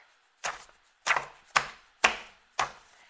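Five sharp, hard bangs of a stack of stuff hitting a desk, spaced about half a second apart, each a loud thump with a short rattly tail, with nothing else heard in between.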